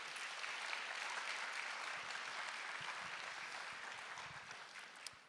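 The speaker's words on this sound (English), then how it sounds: "can we just please give them a round of applause?" A large audience at a TEDx event claps in a broad, continuous round of applause that holds steady and then slowly eases toward the end.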